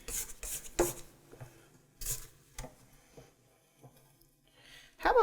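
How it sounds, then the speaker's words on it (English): A spatula scrapes the inside of a KitchenAid Professional 5 Plus stand mixer bowl, giving several soft, close rubbing strokes and light knocks with quiet pauses between them. "Do a little scraping."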